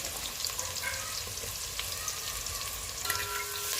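Onions fry with spices in a pan for veg pulao, giving a steady, close crackling sizzle with bright spitting pops. Occasional stirring scrapes cut through, and no one talks.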